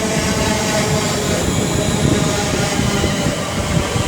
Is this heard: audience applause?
no